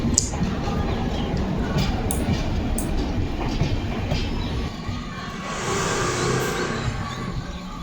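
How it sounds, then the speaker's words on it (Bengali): A train pulling away from Shamsi station, a close, steady rumble and rattle of wheels and wagons throughout, with a few sharp metallic clanks early on and the noise easing slightly toward the end. "এই দেখো ট্রেনটা কিন্তু আমাদেরকে ছেড়ে চলে গেল"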